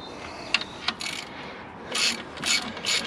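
A hand ratchet clicks in short rapid bursts, with a few metallic taps, while tightening the alternator nut on a BMW N47 diesel engine.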